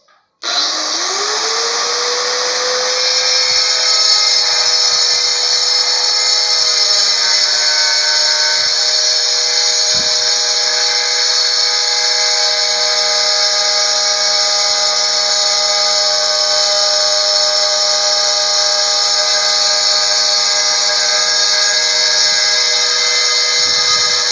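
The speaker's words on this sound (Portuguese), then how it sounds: "Então eu vou cortar do lado certo aqui, mas usar a serra mármore no prumo, certo?" A marble saw with a diamond blade cuts porcelain tile, a loud steady high-pitched whine and grinding that spins up at the start and holds close and constant throughout, with no talking.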